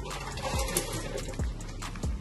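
Water splashes and sloshes against a truck trailer being washed, coming in several uneven bursts over a steady wet rushing background, fairly close and loud.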